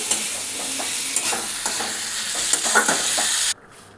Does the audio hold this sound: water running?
no